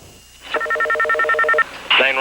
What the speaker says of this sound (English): When he called for help on the cellular phone, the call was routed to Monroe County dispatcher Mike Cruiser.